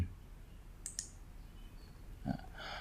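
Two sharp computer mouse clicks while moving through backup menus of office software, followed by a brief soft knock and faint background hiss; quiet room, no talking.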